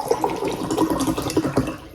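Drinking water is poured close up, a bubbly, splashing stream that gurgles unevenly for about two seconds before tapering off, with no one speaking.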